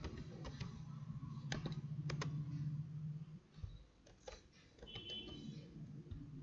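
Computer keyboard typing into Tally Prime accounting software, scattered soft key clicks in irregular bursts, close and quiet, with a low hum beneath.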